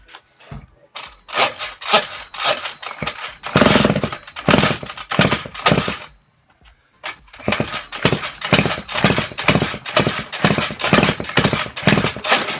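A cheap Chinese no-name scooter engine runs after its carburetor has been adjusted. It revs in loud, rapid, uneven bursts, cuts out briefly around the middle, then picks up again close by with no talking.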